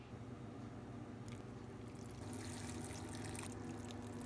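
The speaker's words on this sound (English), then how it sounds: "I will now go around again and water them all" Water is poured from a watering can onto houseplants at home, a quiet, steady trickling and splashing that grows slightly fuller partway through.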